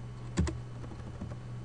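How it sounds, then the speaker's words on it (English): On a quiet computer keyboard, a router command is typed as a couple of soft, close keystroke clicks, followed by a fainter tap. "In the router, I'm going to type show IP inspect"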